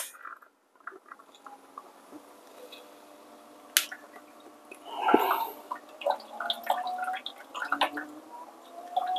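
A VBM Domobar Super Electronic espresso machine flushes its hot group head, water gurgling and spitting in uneven bursts with scattered drips, close and fairly quiet, with no talking.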